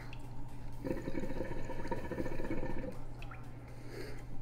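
Gurgling, dripping water from the Hollow Knight video game, a steady liquid wash rising after a quiet start and running for several seconds at moderate level.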